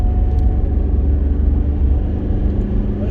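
A 2013 Mitsubishi Shogun with a 3.2 engine heard from inside while driving, a loud, steady low engine rumble with road noise and no voices.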